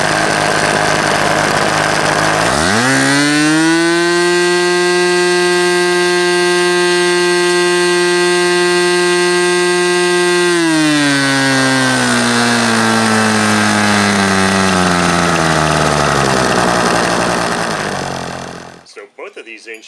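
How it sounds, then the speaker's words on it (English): A Super Tigre 90-size two-stroke model engine starts up and screams at a steady high pitch during a static thrust run, then its note sags and winds down before cutting off near the end, loud and close with no talking. "I did do a static thrust run with this engine, as you can see here, and it ran really well."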